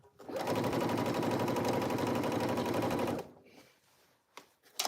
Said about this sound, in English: Checking to make sure it's stitching properly.